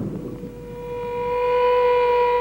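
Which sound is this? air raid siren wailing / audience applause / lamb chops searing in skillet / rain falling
air raid siren wailing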